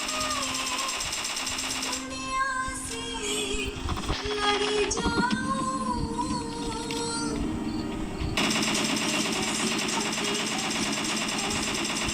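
Video game gunfire in PUBG, dense rapid automatic bursts rattling at the start and end, with a stretch of tonal music and voices mixed in between.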